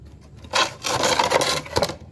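A hand saw cuts through wood for a livestock feed trough, rasping strokes starting after a brief quiet moment and continuing steadily for about a second and a half, close and fairly loud with no voices.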